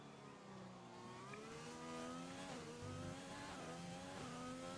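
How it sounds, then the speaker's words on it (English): A McLaren race car engine in a racing video game holds a steady high whine, rising and dipping as the throttle is worked through a chicane exit, loud and continuous. "you can hear there by the engine, he's doing a great job managing the throttle"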